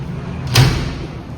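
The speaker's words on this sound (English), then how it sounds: "When you close the door," A communal shower door in a hostel or guesthouse bathroom on a trip to Italy swings shut with a single short, close thud, with quiet room tone before and after and no talking.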